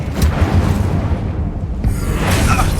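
Incendio fire spell cast in Hogwarts Legacy, a loud continuous roaring rush of flame with whooshing bursts, dense and sustained throughout, with no speech.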